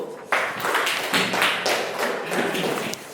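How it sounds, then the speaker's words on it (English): Schoolchildren in a classroom clapping for a group after its presentation, a dense, fairly steady burst of many hands lasting a few seconds, close and loud with no talking over it. "Okay, clap for the group."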